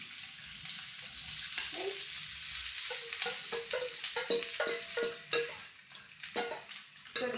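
Onions sautéing in heated oil for an Indian-style curry: a soft continuous sizzle broken by scraping and clinking of a utensil stirring in the pan, close and fairly quiet, with a brief word spoken.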